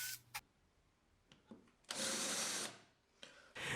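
A drill driving a screw into wood while building a wooden zoetrope, with a few short whirring bursts separated by quiet pauses, close and clear, the longest lasting under a second.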